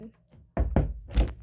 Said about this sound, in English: Why is there still knocking?